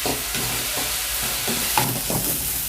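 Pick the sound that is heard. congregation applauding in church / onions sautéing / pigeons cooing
onions sautéing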